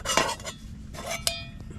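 Hamburger Helper with cheesy broccoli, beef and bacon cooking in a pot at a winter camp by a beaver dam, with a few close metallic clinks and scrapes of a utensil against the pot.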